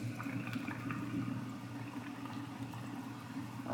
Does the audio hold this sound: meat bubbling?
yes